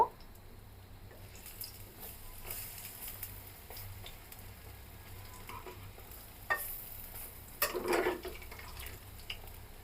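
Banana blossom fritters fry in hot oil with a steady low sizzle while they are flipped one by one, with a few louder spatters and clinks near the end.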